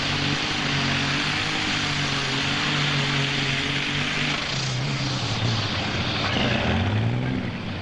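An Allis Chalmers 8070 tractor at a 1998 tractor pull roars loudly and steadily across the whole span, its heavy engine drone shifting pitch as it pulls down the track.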